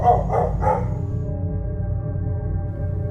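A few dog barks or yips sound early on over a steady low hum, followed by a sustained droning tone, for a horror story scene of being chased by dogs.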